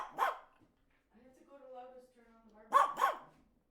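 A pet dog barks several times, sharp close yaps coming in two bursts, with a person speaking between them.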